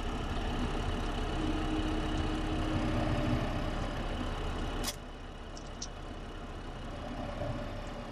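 A tractor engine idles in Farming Simulator 2015 as a steady, even drone that drops slightly in level about halfway through and then holds, with no voices.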